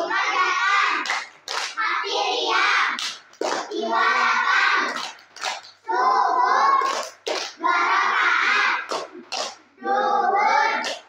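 Young children in a kindergarten religious class clap their hands in a steady rhythm while chanting together, loud and close, in repeated phrases separated by short pauses.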